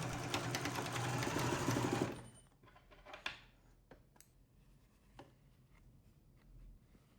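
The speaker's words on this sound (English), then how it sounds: "pin together, and stitch on your sewing machine, leaving an opening for turning" A sewing machine stitches fabric steadily for about two seconds with a dense mechanical whir, then stops, leaving faint clicks and handling noises.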